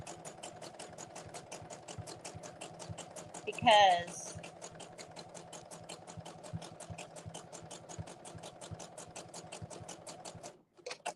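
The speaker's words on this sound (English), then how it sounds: "just listening to the burr of the sewing machine might make somebody go bonkers" A sewing machine runs steadily with a rapid, even mechanical stitching rhythm while sewing fabric rope; a voice briefly speaks over it partway through.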